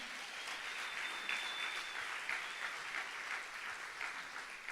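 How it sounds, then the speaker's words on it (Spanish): A church congregation claps steadily and warmly, a dense sustained applause heard at a moderate distance throughout. "Denle un fuerte aplauso al Señor."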